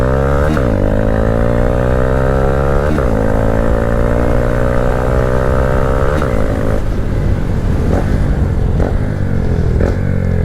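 A 2022-23 Honda Grom motorcycle is ridden hard, its engine loud and close as it revs up repeatedly through the gears with rising whines and quick drops at each shift, and wind rush underneath.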